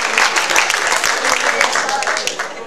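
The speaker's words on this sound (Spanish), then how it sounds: "Un aplauso al Señor" A church congregation applauds during an evening sermon, with dense, steady clapping at a moderate distance mixed with voices in the hall.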